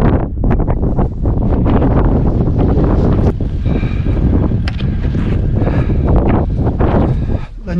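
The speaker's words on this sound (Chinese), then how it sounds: "别动啊，我就拉个围脖，这风有点冷啊" Strong wind in Ngari, Tibet buffets the microphone in loud, continuous roaring gusts, with a voice speaking faintly beneath the rumble.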